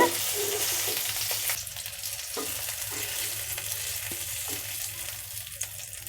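Fish fries in hot oil with a steady, close sizzling hiss that carries on without a break, plus faint bubbling and a few soft clicks.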